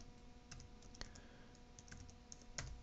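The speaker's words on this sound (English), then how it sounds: "So we need to type the password." Keys tapped on a computer keyboard while entering a password for a new user account, a few sparse clicks spread over a quiet, steady room hum with no speech.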